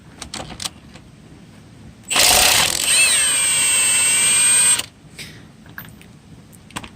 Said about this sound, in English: she took off all those lug nuts just fine